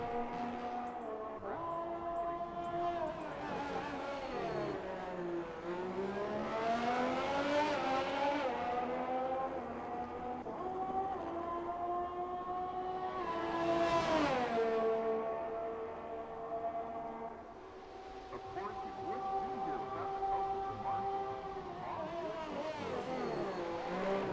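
A race car on its outlap on soft tyres at the Circuit of the Americas in a racing game, engine rising and falling through gear changes and repeated accelerations, loud and continuous with a brief dip before revving again.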